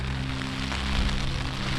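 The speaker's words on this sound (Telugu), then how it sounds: "ఫుల్ వర్షం పడుతుంది" Dense, steady rain noise fills the scene, a constant wash with a low rumble underneath and no pauses.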